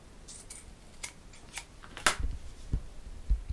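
Scissors snip through fabric while a stretch waistband is being cut for sewing, a few crisp close cuts spaced out over a few seconds, quiet and with no talking.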